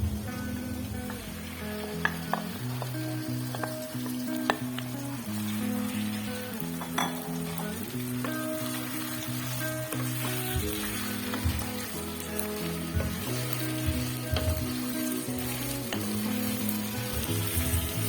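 Duck meat hitting browned onions in a frying pan: a steady, crackling sizzle with occasional clinks of a utensil against the pan, continuous and fairly close.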